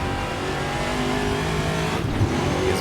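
A heavy VRC TA2 race car in a racing video game, its engine revving loud and close in a brief burst with a short shift of pitch near the end, with no talk.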